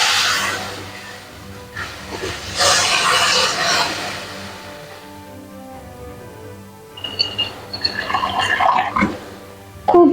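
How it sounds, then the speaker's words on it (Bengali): Tamarind water poured into a hot pan with black mustard seeds for Bengali puti fish sour curry gives a broad steady hiss that swells early, eases, then flares again in crackling bursts near the end. "এবার আগে থেকে যে আমি তেঁতুল গুলে রেখেছিলাম সেটা দিয়ে দিলাম।"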